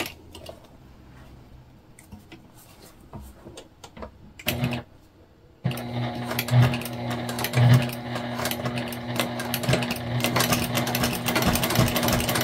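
A sewing machine top-stitches fabric for a beginner bag, starting with short bursts and then running steadily and close for several seconds with a mechanical whir.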